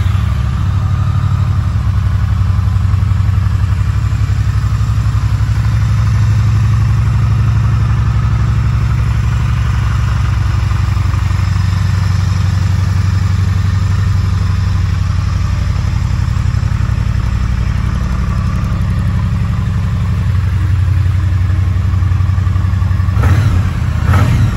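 A cold 2020 Triumph Bonneville T100 motorcycle engine idles steadily and loudly up close, a low, even rumble holding for about twenty-four seconds with a brief change right at the end.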